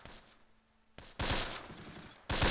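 Gunfire from the Close Combat war game in fog-bound Normandy fighting around Barenton in August 1944: a short burst, then a sustained loud volley of overlapping shots and a fresh burst at the end, with no talk.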